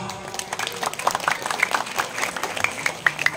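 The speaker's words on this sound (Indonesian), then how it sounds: "tepuk tangannya mana para pemuda" Young people in the audience at a Sundanese village religious sermon in Kampung Pagedongan clap together, a moderately loud, scattered patter of hands under a murmur of voices.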